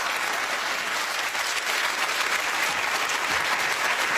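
A studio audience claps in a dense, steady burst of applause that holds at an even level throughout, close and loud, with no speech over it.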